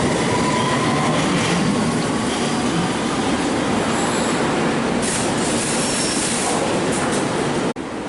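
A London Underground District Line train runs at the Monument station platforms, a loud continuous roar of wheels and rails filling the tunnel, with faint squealing and a sudden drop near the end.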